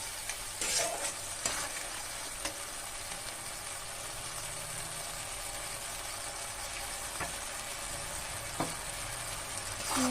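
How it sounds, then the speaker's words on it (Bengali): Spice paste for mustard hilsa sizzles and fries steadily in a pan while a spoon stirs it, with a low continuous hiss and occasional scraping clinks, fairly quiet and close. "দিয়ে ভালো করে নেড়ে চেড়ে কষিয়ে নেবো একটু।"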